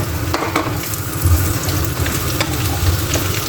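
Onions and carrots sauté together in a hot pan, giving a steady, close sizzle with soft scraping stirs and no talk.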